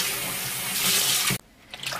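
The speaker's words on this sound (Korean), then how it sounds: "다시 청경채를 넣고 깨끗한 물을 받아" Water gushes steadily from a running tap into a basin for washing bok choy, then cuts off abruptly, leaving a few faint splashes and drips.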